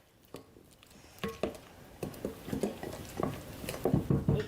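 A spoon stirring mashed bananas into banana bread batter in a bowl, giving soft wet squelches and light clinks that repeat in an irregular rhythm and grow busier and louder toward the end.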